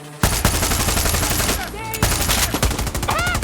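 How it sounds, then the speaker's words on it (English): Rapid bursts of automatic gunfire from a gun in a video game, loud and close, repeated in dense volleys with brief pauses, with speech and game sounds mixed in. "Can I shoot him with the parachute?"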